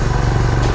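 A Royal Enfield Himalayan motorcycle riding along a road in Nepal, its engine a close, steady low rumble with a quick pulsing beat, brief and alone without talk.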